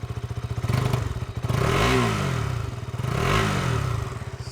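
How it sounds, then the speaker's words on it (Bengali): KTM Duke 200 motorcycle, 2025 model, idling with a throbbing exhaust pulse, then two rising and falling revs of the engine, close and fairly loud, no talking. "তো একবার এক্সস্ট সাউন্ড শুনে নেওয়া যাক"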